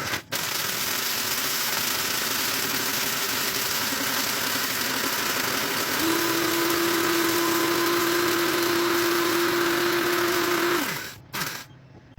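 A blender grinds chunks of 3D printing waste plastic with a loud, continuous churning roar and a rising motor whine that cuts off abruptly near the end.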